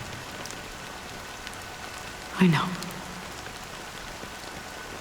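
Rain falls steadily in the video game Honkai: Star Rail, a soft even hiss of drops on surfaces that holds throughout, while a voice briefly speaks midway.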